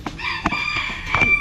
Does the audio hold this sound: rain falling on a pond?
no